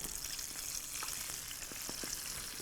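Oil sizzles and crackles steadily with scattered pops and spatters as tapioca-coated chicken livers deep-fry, a continuous hissing texture with no voices.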